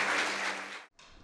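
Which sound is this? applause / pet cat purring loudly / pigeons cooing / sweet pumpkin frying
applause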